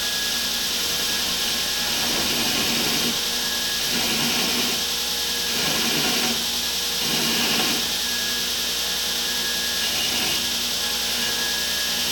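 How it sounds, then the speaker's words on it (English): A power tool chamfering the sharp edges of a metal piece for a gas forge rebuild, a loud continuous whining grind that swells and eases in repeated passes across the edge. "So right now we're chamfering the edges here, taking some of the sharp edges down"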